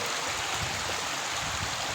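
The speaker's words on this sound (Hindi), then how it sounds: "ये कैसे पानी चल रहा है।" Floodwater rushes over a main road in a Kullu-Manali mountain village, a loud, dense, unbroken roar of flowing water with no voices.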